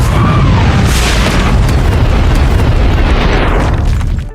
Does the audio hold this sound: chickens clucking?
no